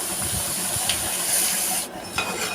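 Beef dropped into a hot pan with fennel seeds, giving a steady close sizzling hiss with scraping, easing off briefly before a fresh sizzle returns.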